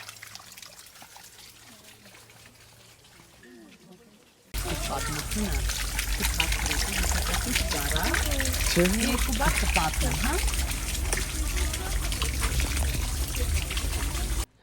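Cold spring water at Haghartsin Monastery in the mountains near Dilijan, Armenia, starts suddenly and flows loudly and continuously up close in a steady trickling splash after quiet background talk.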